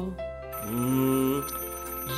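A phone alarm rings continuously, an electronic melodic tone with sliding pitches sounding loud and close throughout.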